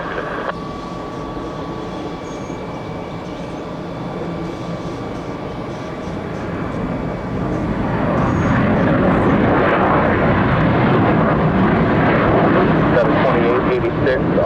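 Airliner departing Atlanta International Airport, heard as a building jet engine roar that swells to a loud, sustained rumble, with tower radio voices talking over the first half.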